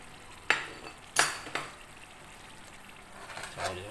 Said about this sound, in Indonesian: Jadi kita masak jinten manis jinten putih dalam dia